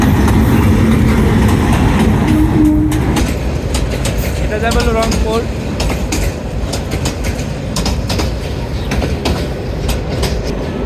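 A train runs toward Santahar Junction from Bogura, its close rolling rumble and clickety-clack of wheels continuing steadily while people talk nearby.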